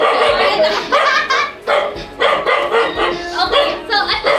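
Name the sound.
dogs barking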